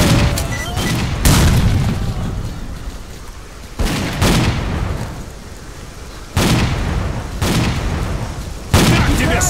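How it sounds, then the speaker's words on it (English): Grenade blasts in the shooter game S.T.A.L.K.E.R.: Clear Sky, several loud booming detonations at intervals of a few seconds, each followed by a rumbling decay over continuous combat noise. "Here, catch a grenade!"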